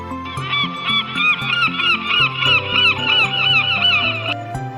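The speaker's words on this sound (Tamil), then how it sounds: "கடல் பறவை." A sea bird gives a run of repeated honking, squawking calls in a steady rhythm, loud and close, over a bed of background music.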